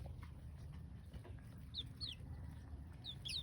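Young Australorp chickens hatched on a small free-range ranch cluck softly and chirp in short bursts over a steady low rumble of ambient noise.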